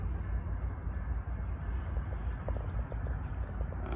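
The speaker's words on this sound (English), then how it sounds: "Okay, train is coming, right?" Rumbling freight train, likely an intermodal train with rail wagons, arriving at a warehouse yard: a steady low rolling roar with faint clanks, heard from nearby and continuous with no talk.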